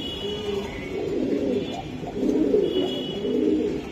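Indian high flyer pigeons, a racing high-flying Giribaz pair, coo in low, throaty, repeated rolls close by, with overlapping birds keeping up a steady murmur and no talk.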